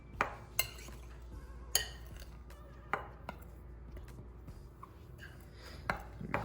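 Dry ingredients for Jamaican salt fish fritters being mixed in a bowl, heard as faint scattered scrapes and light knocks of a utensil against the bowl, spaced irregularly over a quiet kitchen background.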